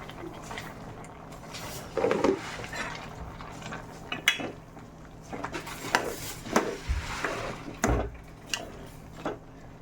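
A spoon is stirred through a pot of thick kurukku kaalan as turmeric is mixed in, giving irregular knocks, clinks and scrapes against the vessel at close range over a low background.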